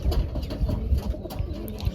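Pigeons coo close by in soft, low, throaty bursts that repeat and overlap irregularly over a faint background hum, with no talking.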